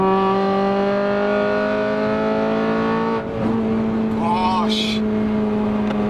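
Honda Civic Type R with its K-series engine on a bumpy road, a loud sustained cabin drone with strong harmonics climbing under throttle, briefly dipping at a shift, with short voice bursts near the end.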